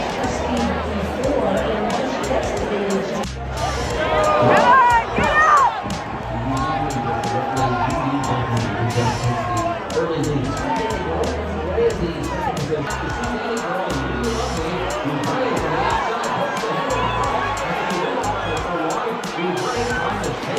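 Crowd at the Keeneland horse races, a steady hubbub of many voices chattering around the track with a brief swell of noise, continuous throughout.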